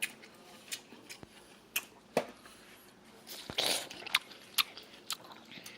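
Crisp bites and crunchy chewing of freshly cut watermelon, close and quiet, with a string of sharp irregular crunches and a brief juicier burst midway.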